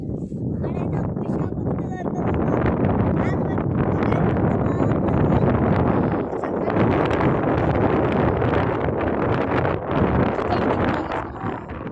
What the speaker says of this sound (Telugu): గాలి చాలా ఎక్కువ ఉందన్నమాట